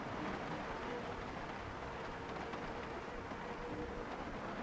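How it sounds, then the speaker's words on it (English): Steady, soft rain hiss in the video game Project Zomboid fills the clip evenly, a constant wash of noise with no distinct drops standing out and no voices. "oh, and I can hear the rain"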